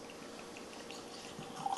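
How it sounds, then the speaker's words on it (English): Blanton's single barrel bourbon poured from the bottle into a glass, a faint steady trickle of liquid with a few soft drips, growing slightly louder near the end, no talking. "So let's get a pour of this going and we'll give it a taste."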